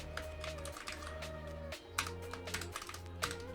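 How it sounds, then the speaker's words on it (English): Keys clatter on a computer keyboard in a quick, uneven run of clicks, close and fairly quiet, with no talking. "Let's type something."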